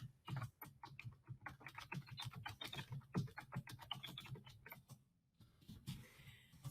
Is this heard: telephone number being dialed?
no